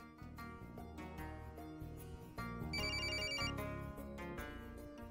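A telephone ringtone plays a repeating melodic tune, loud and close, with a brighter jingling stretch in the middle and no talking.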